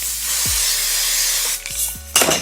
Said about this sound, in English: I'm going to take a little bit of my hairspray.